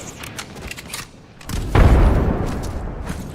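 A frag grenade detonates in the Apex Legends battle royale shooter, a sudden low boom that swells and rumbles on for over a second amid other game noise, no voices.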